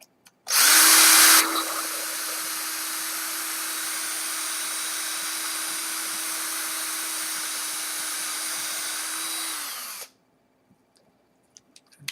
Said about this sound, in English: let's drill a little bit more